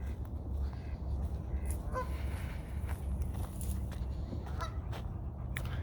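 Ducks honk and quack in short bursts over a steady low rumble of water and wind at High Park in Canada, the calls fairly close and intermittent.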